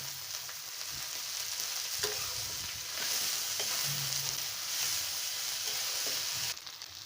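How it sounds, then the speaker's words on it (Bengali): Fish fries in hot oil with coriander leaves added, a steady close sizzle with occasional stirring scrapes and no talking. "এই তো মাছগুলো প্রায় ভাজা হয়ে গেছে। এখন এর মতো দিয়ে দিব ধনিয়া পাতা।"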